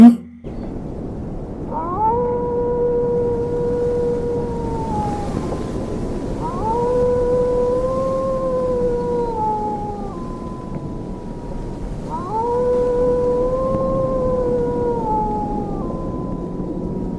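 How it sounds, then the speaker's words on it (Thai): A distant dog's long drawn-out howls rise and fade three times, mournful and tonal against a low background hum, with no talking. "กับเสียงหมาหอนอยู่ไกลๆ เท่านั้น"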